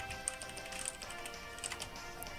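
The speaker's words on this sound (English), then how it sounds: "We're typing something." Rapid soft text-entry ticks from Pokémon Alpha Sapphire, a quick run of faint, evenly spaced clicks over a steady background hum, with no talking.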